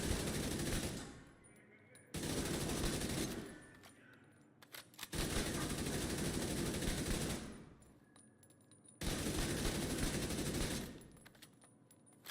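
Assault rifle fire in The Division 2, loud sustained automatic bursts of about one to two seconds each, four bursts separated by short gaps with a faint background.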